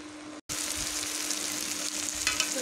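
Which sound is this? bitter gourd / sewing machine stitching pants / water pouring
bitter gourd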